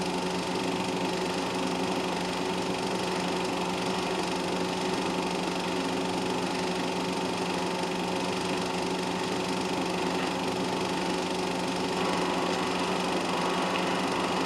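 Porsche race cars, including a D production Porsche, run during a circuit race, their engines giving a continuous droning buzz at steady distance with no talk over it.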